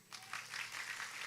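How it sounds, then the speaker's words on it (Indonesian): Faint, scattered applause from an audience at a Nisfu Sya'ban religious study gathering, a soft patter of clapping that swells briefly and continues steadily in the background. "Tepuk tangan pisan Kas."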